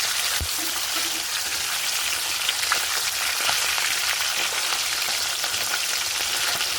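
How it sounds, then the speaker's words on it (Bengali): Fish pieces frying in a hot wok give off a continuous, even sizzle like light rain, steady and fairly close for several seconds, with no one speaking over it. "এই মাছগুলোর এক পাশ একটু হালকা হালকা ভাজা হয়ে গেছে আর এক পাশ উল্টে দেবো"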